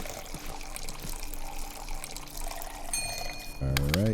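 Whiskey is poured into a bar glass in the Saloon Simulator game, a short liquid pour near the end that rises in pitch as the glass fills, over soft background sound.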